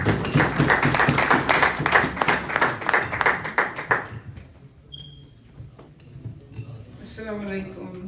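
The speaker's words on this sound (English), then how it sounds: "Give a big round of applause" An audience at a Brooklyn community event breaks into loud, dense applause for about four seconds, then it fades out and a voice begins speaking over a quiet room.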